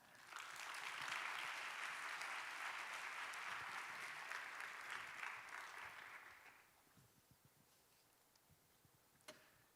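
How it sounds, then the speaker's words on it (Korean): Audience at a church university-group talk show applauding a guest coming on stage, a loud sustained burst of clapping for about six seconds that then drops away to a quiet room with a few scattered sounds. "함께 이야기 나눌 오혜린 자매님 나오실 때 우리 박수로 모시겠습니다."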